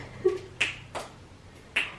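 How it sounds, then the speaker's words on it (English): Three or four sharp finger snaps ring out close by, spaced irregularly across two seconds, each a crisp dry click in a quiet room. "How did you just snap your fingers?"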